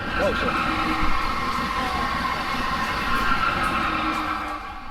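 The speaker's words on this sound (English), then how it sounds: "That was a fast train." A train rushes past with a steady, loud rumbling roar and rail noise, heard from close by inside a car, with people talking over it.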